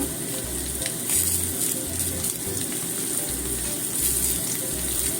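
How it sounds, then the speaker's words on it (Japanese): Tofu hamburger patties sizzle steadily in a pan over medium heat, a bright continuous crackling hiss with a low intermittent hum underneath, close and even throughout. "これで中火ぐらいで3分ほど焼きましょう"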